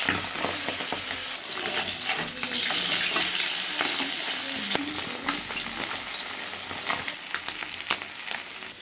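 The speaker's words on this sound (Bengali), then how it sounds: "লবণ হলুদ দিয়ে মাখিয়ে নিলাম, ভেজে নেব।" Large fish pieces coated in salt and turmeric fry in a hot wok, a steady close sizzle and crackle with scattered sharp pops and occasional stirring sounds throughout.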